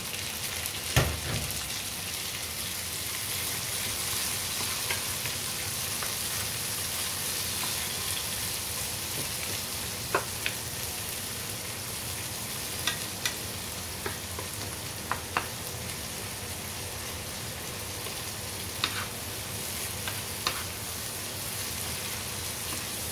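Tomatoes sauté in a pan with sardines, a steady broadband sizzle running throughout with occasional sharp clicks of a utensil scraping and stirring, no talking.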